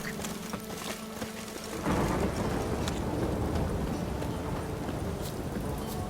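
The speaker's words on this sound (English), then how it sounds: "Witches have conjured rain." Heavy rain pours in The Witcher 3 on PS5, jumping suddenly from a quieter ambience after about two seconds, with hoof clatter on top and a broad, steady rumble of downpour filling the rest.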